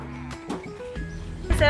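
A goat bleats during a Hari Raya Haji sacrifice at a village gathering, a couple of short cries amid people talking nearby and background bustle.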